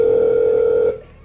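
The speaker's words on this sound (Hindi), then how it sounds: "मैं अभी अपने बेटे को फोन करती हूँ" A telephone dial tone hums steadily and loudly for about a second as a call is placed, then stops abruptly.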